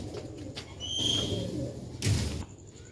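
Low, throaty cooing from a Sialkoti Ali wala pigeon close by, mixed with rustling and a brief burst of flapping or scuffling noise.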